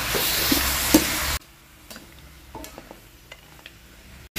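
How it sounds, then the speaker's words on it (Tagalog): Beef browning in a pan with golden onion, garlic and ginger gives a loud hissing sizzle with a few utensil scrapes for over a second, then cuts to quieter scattered stirring clicks and soft sizzling. "ilagay ang karneng baka. Pangkutsahin mabuti ang karneng baka."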